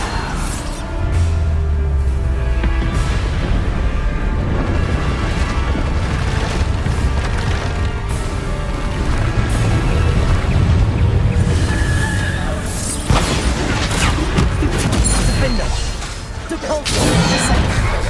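Bombarda spell explosions in the Hogwarts Legacy video game on PS5, with loud booms and crashing blasts repeating over a dense, continuous rumble of battle effects and whooshes throughout.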